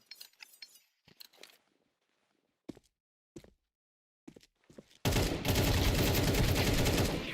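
Video game gunfire in a firefight: scattered sharp shots and clinks with silent gaps, then a sudden loud, dense burst of sustained rapid fire that fills the end.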